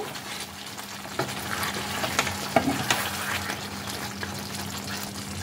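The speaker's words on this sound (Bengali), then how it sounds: "এই সব কিছু দিয়ে আরেকবার একটু ভালো করে মিশিয়ে নেব।" New small potatoes in a spiced curry with chopped coriander leaves, stirred in a pan: a steady, close sizzle of frying runs throughout, with scraping stirs and soft knocks on top.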